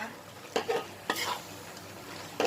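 Ground pork being stir-fried in a pan with fresh chilies for a southern Thai dry pork dish, giving a few scraping stirs and bursts of sizzling at close range with no talking.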